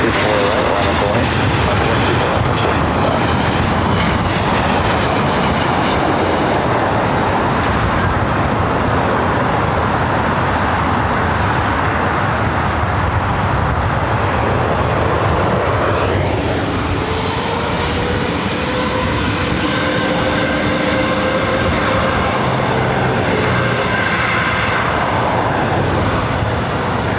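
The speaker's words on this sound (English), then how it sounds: "have Southwest Airlines flight coming in from Chicago Midway, flight 1872, 737-700" A Southwest Airlines Boeing 737-700 arriving at LAX from Chicago Midway, its loud, steady jet roar filling the air with a broad rushing noise that shifts in tone partway through as it passes, with traffic rumble underneath.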